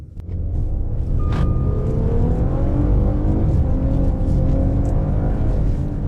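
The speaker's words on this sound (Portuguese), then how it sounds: "disse para eu realmente pisar fundo na saída, porque ele nunca ouve o carro acelerando" A 2017 Maserati Ghibli S accelerates hard from a standstill on a cold road, its engine rumbling loud and close as revs climb steadily while the car struggles for traction, with no talking.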